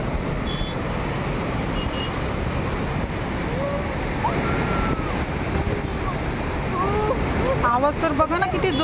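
Fast, swollen river rushing hard during monsoon rain in Pune, near a Mahadev temple: a steady, loud broadband roar of churning water that fills the whole clip, with faint voices and chirping sounds emerging briefly toward the end.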